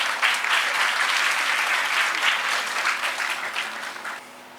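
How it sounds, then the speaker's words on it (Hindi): An audience at a felicitation ceremony for a TB-Free India campaign at Raj Bhavan, Dehradun, gives sustained applause. The clapping stays dense and steady, then fades toward the end. "जोरदार तालियों से स्वागत कीजिए।"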